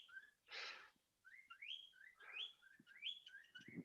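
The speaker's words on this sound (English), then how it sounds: "Oh, sorry about my bird there." A pet bird indoors chirps and whistles in a string of short rising and falling notes, fairly faint and close, with no speech.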